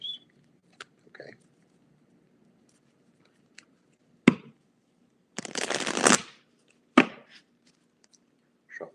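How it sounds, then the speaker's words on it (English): Playing cards are handled and shuffled, with sharp snaps and a longer riffling burst between quiet pauses, close by. "Shuffle, shuffle."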